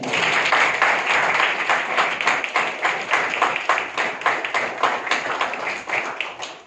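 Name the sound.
audience applause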